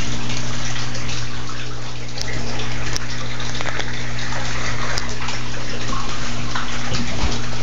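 Water gushes steadily through a homemade spin filter built from a water bottle, a continuous rushing flow with a faint mechanical hum and no talking.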